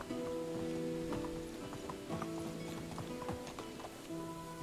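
A donkey's hooves clip-clop in the Medieval Dynasty game, with a steady run of soft, irregular hoof steps over an outdoor ambience.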